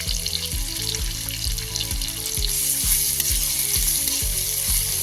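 Ginger-garlic paste sizzles loudly in hot oil, a continuous bright crackling hiss close by, with a low repeated rhythmic tone running underneath.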